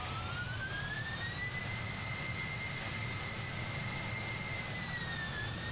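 Boeing 767 jet engines in Microsoft Flight Simulator 2020, a steady, loud turbine roar with a high whine that rises slightly and holds, continuous throughout with no talking.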